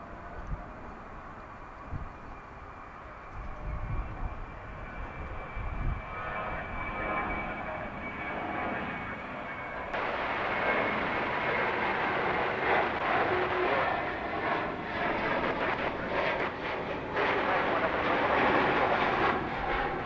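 An American Airlines airliner taking off from DFW Airport at night, its engine roar swelling from a distant rumble into a loud, broad, sustained thunder as it lifts off.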